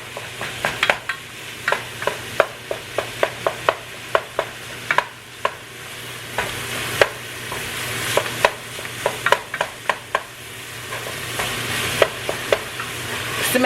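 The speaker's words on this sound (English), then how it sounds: "So, get my meat cooked up here. Still trying to get it all chopped up." Ground meat for rigatoni pasta frying in a pan as a utensil chops and breaks it up, giving many sharp clicks and taps against the pan over a continuous sizzle.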